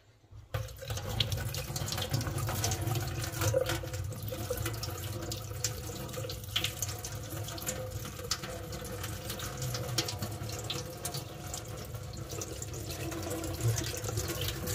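Water streams steadily from a tap, a continuous close splashing hiss that runs the whole time without pause.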